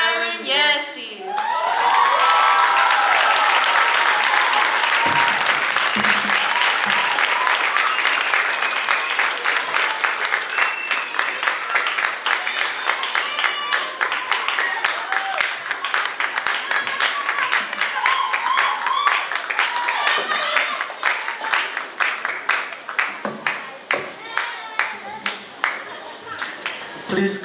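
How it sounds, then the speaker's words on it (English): Audience applause and cheering welcoming a guest speaker to the stage at a 12th grade commencement ceremony, a loud, sustained crowd ovation with shouts and whoops, staying strong for most of its length before individual claps thin out near the end. "Please keep clapping."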